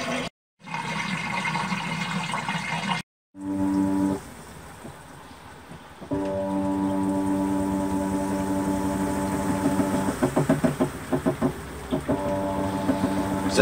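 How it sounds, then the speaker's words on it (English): An automatic washing machine running off-grid on solar power spins up, giving a steady mechanical whir with rising motor tones and some rhythmic rattling, after a few brief dropouts near the start. "So as it spins up, keep an eye on it to make sure it stays in balance."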